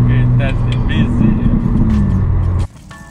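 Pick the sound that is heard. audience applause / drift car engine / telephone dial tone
drift car engine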